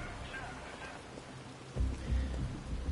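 Rain patters steadily in Detroit Become Human, a continuous soft hiss that swells louder and heavier toward the end, with no voices.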